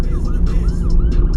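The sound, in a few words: ambulance siren passing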